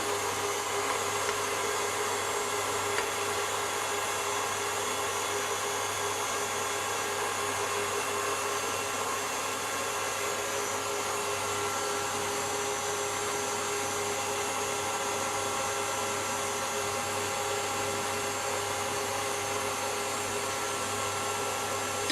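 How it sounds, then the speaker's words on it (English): An electric mixer whisks egg whites and sugar into a firm meringue for a Japanese cotton soft cheesecake, an unbroken, even whir that stays steady and close for the whole stretch with no talking. "we're going to continue whisking until we have a firm meringue"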